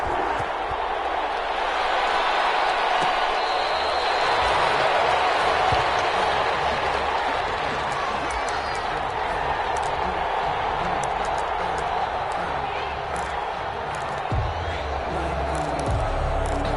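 A stadium crowd roars at an NFL game between the Seattle Seahawks and the New Orleans Saints, a dense, sustained wash of cheering and applause filling the whole stretch, loud and continuous.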